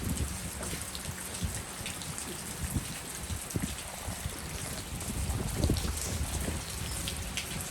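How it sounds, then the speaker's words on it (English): Wind-blown rain falls steadily onto a covered patio porch during a storm, a dense close hiss of drops with heavier thuds and gusty swells, alone without talk. "From the wind bringing the rain onto the porch."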